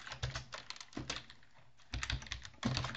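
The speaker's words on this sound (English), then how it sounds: "Go ahead and type" Fingers typing on a computer keyboard, a quick irregular run of close clicky keystrokes in short bursts with brief pauses between them, and no talking.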